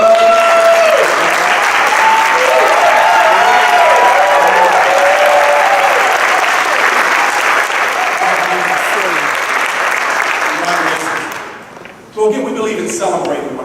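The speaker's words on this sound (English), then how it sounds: "allow us to give you a quick round of applause" A room full of people applauds new associates at a Super Saturday event in Houston, with loud sustained clapping and voices over it for around eleven seconds, then a brief drop before talking resumes.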